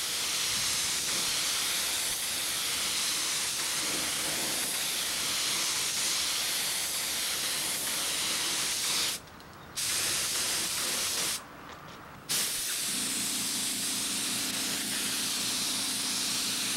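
A paint spray gun hisses steadily and loudly, close by, with two brief pauses where the trigger is released before spraying resumes.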